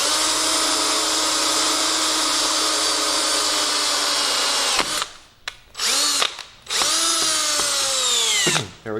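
A power drill bores through hardened steel during a repair on a 1972 Homelite T10 garden tractor: a steady high whine for about five seconds, then several short bursts, each spinning up and winding down.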